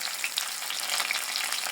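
Rohu fish frying in hot oil, a steady close crackle and hiss with oil spattering throughout, no voices.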